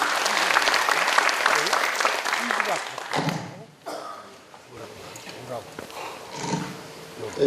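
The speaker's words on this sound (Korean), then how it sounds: "뜨거운 박수 환영 부탁드립니다." Loud audience applause at a regional jobs forum fills the first few seconds, then thins out into scattered claps and room noise as it winds down.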